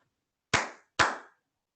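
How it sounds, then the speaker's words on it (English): Two sharp hand claps about half a second apart, crisp and fairly close in an otherwise quiet room, each with a short decaying tail. "I'm going to do 2 hand claps like this."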